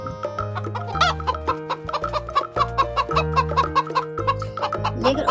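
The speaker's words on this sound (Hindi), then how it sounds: "शालू ने मुर्गी को पकड़ा।" Hen clucking in a Hindi animated cartoon moral story, repeated cartoonish clucks and squawks riding over a bouncy musical score with steady bass notes, loud and close.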